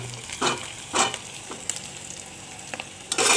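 Sliced onions frying in oil in a pan at home, with bay leaves added, stirred several times so a soft sizzle is punctuated by scraping spatula strokes at irregular intervals, close and moderate, no talking.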